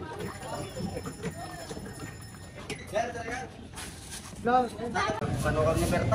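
Horse-drawn carriage hooves clip-clopping on pavement at a steady walking pace amid a busy street in historic Vigan, Philippines, with people talking nearby and traffic noise growing louder.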